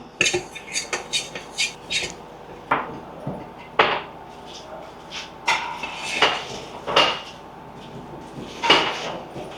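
Dry salt, chili powder and garam masala being mixed in a kitchen, heard as a run of irregular clinks, knocks and scrapes of a utensil against a bowl, fairly close.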